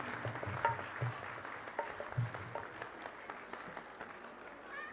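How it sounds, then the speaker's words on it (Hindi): Scattered applause from a festival gathering in Bengaluru welcoming an arriving MP, faint and uneven claps with a few louder bursts, heard from a distance amid background murmur. "मैं आप सबसे अनुरोध करूंगा कि एक बार दोनों हाथों से ताली बजाकर उनका स्वागत"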